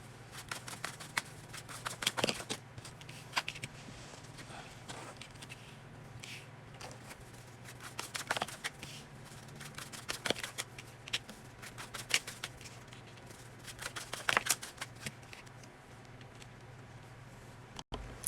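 Tarot cards shuffled and pulled from a deck in a quiet room, a steady run of soft riffling bursts and crisp card snaps repeating over and over, close and fairly quiet, with no voices.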